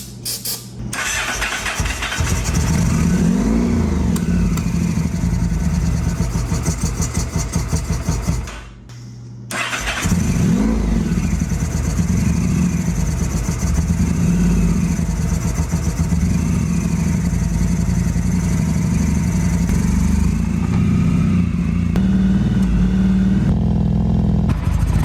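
An abandoned motorcycle engine, bought for $200 and being revived, runs steadily and loudly up close, cutting out briefly at about nine seconds before firing again and running on for the rest.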